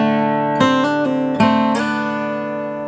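Acoustic guitar plays the next bar of a traditional tune in an arrangement, with about five picked notes and slides ringing together, played clean and solo with no talking.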